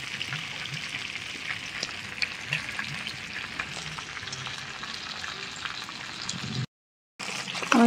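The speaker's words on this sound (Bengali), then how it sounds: "আমি লেগ পিসগুলোকে একটু হালকা করে ভেজে নেব।" Chicken leg pieces lightly frying in a pan, a continuous soft sizzle and crackle of oil with scattered pops, close and moderate, ending with a brief silent gap.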